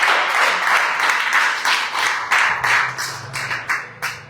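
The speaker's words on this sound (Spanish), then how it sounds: "Dale fuerte el aplauso." A church congregation claps in a strong, rhythmic unison beat, each clap sharp and close, with a low sustained tone rising underneath toward the end.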